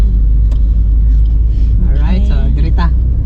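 City street traffic in Cagayan de Oro in bad weather, a steady low rumble of cars and engines heard close from inside a vehicle, with a person talking over it.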